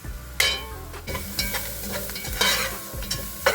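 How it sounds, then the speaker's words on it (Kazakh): Carrots and potatoes fry in a pot for lentil soup while being stirred, with close scraping strokes and bursts of sizzle that rise and fall across a few seconds. "Сәбіз және картопты салып 3-4 минутқа дейін қуырып алыңыз."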